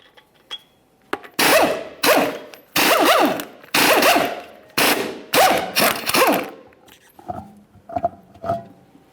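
Five 22mm lug nuts come off the rear wheel of a 2011-2021 Jeep Grand Cherokee in a series of loud, close, rapid rattling bursts separated by short pauses, with softer bursts trailing at the end.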